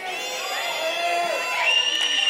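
A youth audience at a church service screams and cheers loudly and continuously, with high-pitched shrieks rising toward the end and voices mixed into the roar.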